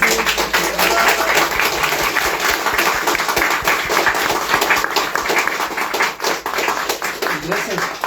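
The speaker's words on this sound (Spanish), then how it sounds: "un aplauso para él" Audience applause at a book launch in a gallery, steady dense clapping from a crowd filling the room, with voices mixed in throughout.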